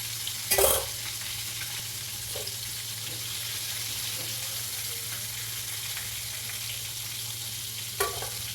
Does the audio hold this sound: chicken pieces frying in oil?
yes